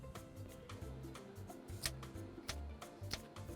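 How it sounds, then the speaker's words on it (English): A kitchen knife chops a mushroom on a cutting board in quick, soft, irregular taps, faint and close, with light rustling between strikes and no talking. "now we're going to cut up our mushroom."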